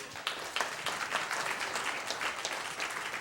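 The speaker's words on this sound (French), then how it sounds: "On leur fait encore un applaudissement." A gala audience at a New York fundraiser claps for the organizing committee, a short, faint burst of scattered hand claps with a few sharp individual claps standing out.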